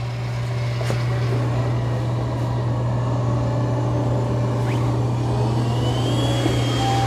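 An ECOVACS DEEBOT N10 Plus robot vacuum runs on standard suction, giving a steady, close, unbroken hum with a strong low drone and a soft whir above it, even in level throughout with no talking.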